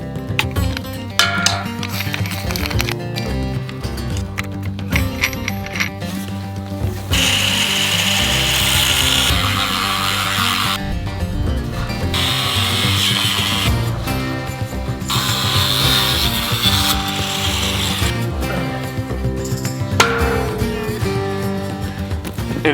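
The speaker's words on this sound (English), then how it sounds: "I'm cutting these beams at 14 degrees because that's the slope of our roof." Power saw cutting wooden roof beams at an angle, loud and close, with long sustained cutting passes interrupted by brief pauses and clattering of wood and tool handling.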